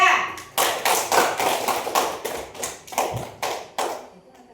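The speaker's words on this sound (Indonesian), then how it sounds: "Ya, tepuk tangan untuk kelompok 3." A school class claps for a student group in a series of loud, separate bursts of hand claps, each fading before the next, with a pause near the end.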